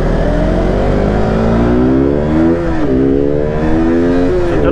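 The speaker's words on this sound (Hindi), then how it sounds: "काफ़ी दिन के बाद चला रहा हूँ बाइक, तो थोड़े से खींच के देख लेता हूँ" A motorcycle is being ridden and throttled hard, its engine rising and falling in pitch through repeated revs as it pulls, loud and close with wind noise and no talking.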